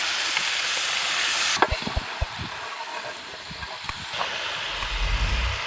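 Venison fries in oil with tomato in a pan, producing a continuous close sizzle. Scattered scrapes and stirring knocks run through the middle, and the hiss swells again near the end.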